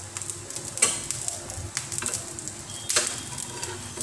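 Besan cheela batter cooking in oil on a pan, a soft steady sizzle with a few brief scraping clicks from a utensil, close and moderately quiet throughout.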